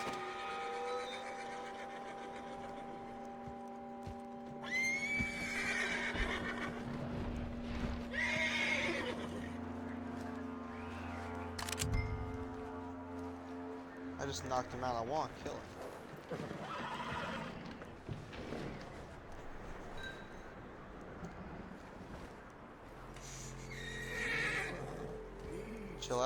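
A horse in Red Dead Redemption 2 whinnies repeatedly, shrill neighs and snorts mixed with hoof clip-clops and game sound effects, with someone talking at intervals.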